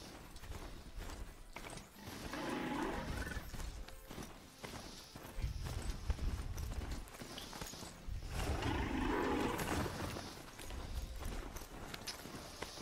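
Hoofbeats of a machine riding mount in Horizon Zero Dawn, a steady clip-clop gait with a mechanical clatter that runs in bursts, close and fairly loud, with occasional voices mixed in.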